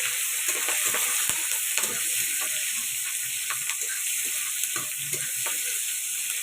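Onion, green chili and nigella seeds fry in a wok with a steady, loud hissing sizzle, broken by occasional light scrapes and clicks of stirring, with no one talking.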